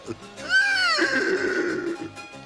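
A cartoon horse in an animated Western lets out one long, loud whinny that rises and then wavers down, standing alone and close.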